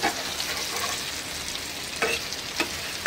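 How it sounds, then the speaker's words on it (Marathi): Potatoes stir-fry in hot oil with a dense, bright sizzle, with a couple of sharp stirring scrapes near the end, close and alone. "आता मी बटाटे एकदा ना परतून घेते।"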